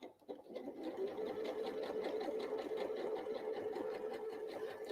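Sewing machine stitching a quick seam on an old-fashioned apron, running steadily and close with a fast, even mechanical whir throughout.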